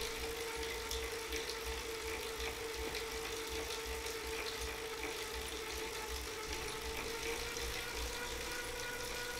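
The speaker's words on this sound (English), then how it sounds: "So now I'm gonna drop the watts to 100 watts and just keep it in the small gear" A Wahoo KICKR 2017 bike trainer runs at 100 watts in the small gear, giving a steady, even mechanical whir with a constant tonal hum and faint ticking, close and unchanging throughout.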